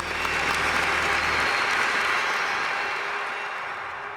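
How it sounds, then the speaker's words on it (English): Enthusiastic round of applause from a crowd at a virtual humanitarian awards event, a dense, steady wash of clapping that holds strongly and then gradually fades toward the end. "Let's have an enthusiastic virtual round of applause for all of our sponsors."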